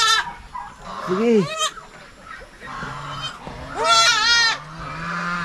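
Goats bleat on a provincial farm while two does are giving birth: loud, wavering, nasal cries close by, with softer calls in between and a brief spoken word.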